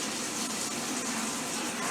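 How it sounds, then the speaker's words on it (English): Tap water runs steadily during a quick hand wash: a close, continuous gush with no pauses and no talk. "Wash my hands real quick before I touch that camera."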